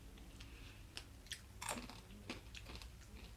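Close crunchy chewing of a small popcorn-like snack resembling unpopped corn kernels, with several distinct bites and crunches spread irregularly over a few seconds, quiet and near.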